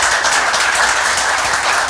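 Audience applause at a school quiz match, a dense, steady wash of many hands clapping at full loudness throughout.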